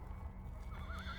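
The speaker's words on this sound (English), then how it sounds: "neighing of a horse" A horse gives a pained, wavering neigh over a low, rumbling background, fairly faint and drawn out.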